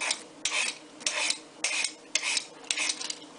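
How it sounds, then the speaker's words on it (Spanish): Potatoes scraped clean with a handheld kitchen tool, six steady rhythmic rasping strokes in a row, close and distinct with brief pauses between each pass. "Y con esto de limpiar las patatas, pues las limpiáis."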